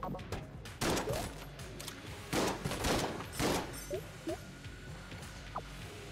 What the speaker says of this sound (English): watching me struggle to kill an enemy with a frickin' pea shooter